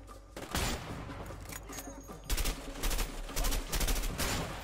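Heavy gunfire in the video game A Way Out, rapid overlapping shots crackling in dense bursts, loud and close, with heavier volleys thudding in toward the end.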